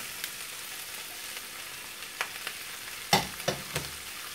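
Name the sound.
stirring sautéing green and red peppers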